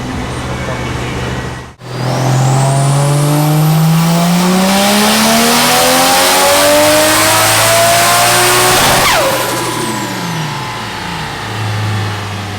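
A Toyota JZX100 on a dyno runs on E-fuel under boost, its engine revving loudly in one sustained pull that climbs steadily in pitch for several seconds and then drops sharply as the throttle closes.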